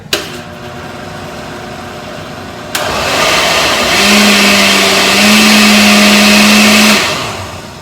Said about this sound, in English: So we're gonna just puree these real quick